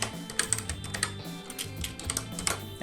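Code being typed on a computer keyboard, a quick continuous run of crisp, close key clicks and taps with a slightly uneven rhythm and no voices.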